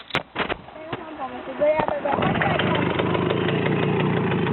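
A Romet motorcycle engine starts up with a few sputtering bursts, then settles into a steady, fairly close idle, with a person speaking over the early part.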